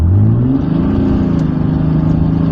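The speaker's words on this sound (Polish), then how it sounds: "3-litrowa fałszustka bardzo fajnie brzmi, a w zasadzie grzmi, biorąc pod uwagę chyba troszkę dziurawy wydech" Ford Taurus with a 3-litre engine and a slightly holed exhaust, a loud, deep rumbling rev heard from up close, the pitch rising then holding steady with a throaty, booming tone.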